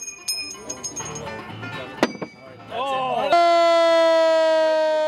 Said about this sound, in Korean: 유타 주립대의 상징색인 붉은색의 소방차도 동원됐다.